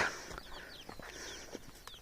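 Chickens and small chicks in a rural Maharashtra village along the Narmada, heard as faint, scattered chirps and clucks over a quiet outdoor background, with light rustling footsteps.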